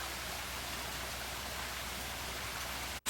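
A small garden waterfall under a footbridge sends up a steady, even wash of splashing water, a constant mid-level hiss with no voices, broken only by a brief dropout near the end.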